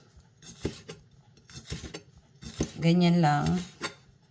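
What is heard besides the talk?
knife slicing sweet paprika into strips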